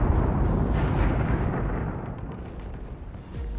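Rupture cannon shots and an exploding tank in an animated battlefield scene make a heavy, rumbling blast that rolls on and slowly fades, with a few sharper cracks and pops near the end.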